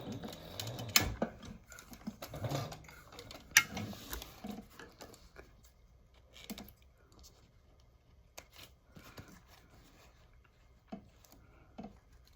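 A sewing machine back-stitching an accordion card pocket, a few short bursts of stitching with clicks and handling noises, close and fairly quiet, then mostly still.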